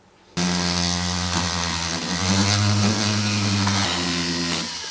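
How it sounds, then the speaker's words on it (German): A hand router rounds off the sharp edges of a workpiece with a loud, steady whining buzz that starts abruptly and holds with small pitch shifts before easing at the end. "mit dem Handfräser alle Kanten verrunden"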